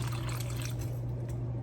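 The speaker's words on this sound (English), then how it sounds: "And top it with water." Water pours in a steady, continuous stream into a sauerkraut jar of cabbage, close by and moderately loud, with a low constant hum underneath.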